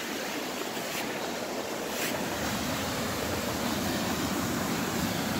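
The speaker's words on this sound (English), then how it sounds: "And here's the waterfall." A waterfall rushes in a wet forest, a loud, steady broadband roar with faint wind buffeting and no talk.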